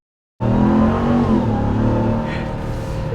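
A 2022 Ram TRX pickup engine roars to life in launch control and holds a loud, steady high rev, a deep droning growl that eases slightly toward the end.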